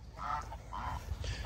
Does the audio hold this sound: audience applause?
no